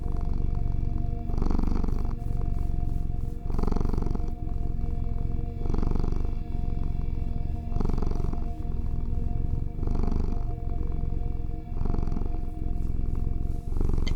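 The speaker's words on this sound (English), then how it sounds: "And the purring waves is how they communicate." A cat purrs close up in a steady, continuous rumble, its rhythmic inhale and exhale cycles pulsing every second or two, with no other sounds.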